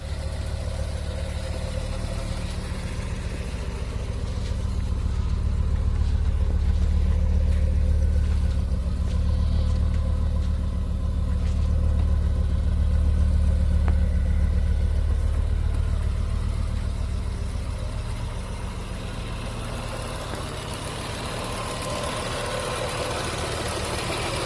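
A 2013 UTO 025 tractor engine idling nearby, a low, steady rumbling hum that swells slightly in the middle and then settles, with no talk.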